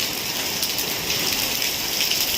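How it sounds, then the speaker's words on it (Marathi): Heavy rain pours down in Chiplun with a dense, steady hiss of drops hitting surfaces, loud and unbroken, with no voices. "खूप मोठ्या प्रमाणावरती चुकूनमध्ये पाऊस चालू आहे"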